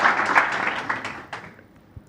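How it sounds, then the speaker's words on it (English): Audience applause at a Startup Grind Barcelona event, a dense burst of clapping that fades over about two seconds. "Very strong this is applause."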